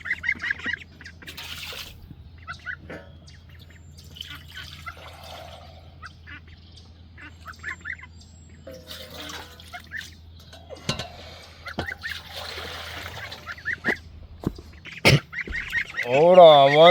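Ducks and geese in a homestead barn give scattered honks and quacks through the clip, growing louder and busier toward the end, with steady low background hum and occasional bumps of water bowls being handled.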